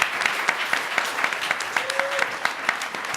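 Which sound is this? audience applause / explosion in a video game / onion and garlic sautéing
audience applause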